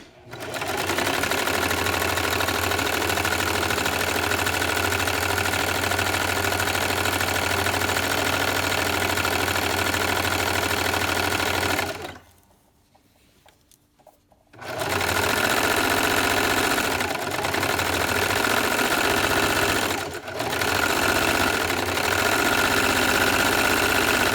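A sewing machine runs a zigzag stitch along the edge of fabric for a baby sleeper, a loud continuous mechanical whir that stops briefly partway through, resumes, then falters for a moment before carrying on.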